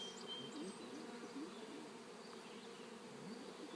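Honeybees buzz around an opened hive frame during a beekeeping inspection, a steady, faint, droning hum with individual bees whining past up close.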